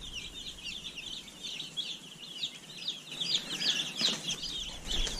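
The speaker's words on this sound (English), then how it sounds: "we have 51 chicks." Many Freedom Ranger meat-bird broiler chicks peep continuously in a dense, overlapping chorus at close range, with the chirping swelling louder toward the end.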